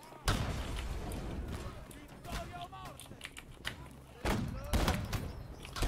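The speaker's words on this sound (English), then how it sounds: "So that was my attempt at shooting." Gunfire in the musket-era battle game Holdfast comes as a sharp shot near the start and another burst later, heard among battlefield noise with a voice talking over it.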